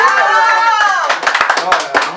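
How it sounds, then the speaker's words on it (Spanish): At a birthday celebration with a youth mariachi band, a sustained sung or held tonal note gives way to a burst of loud, scattered hand clapping from the gathered guests. "El aplauso para él, fuerte."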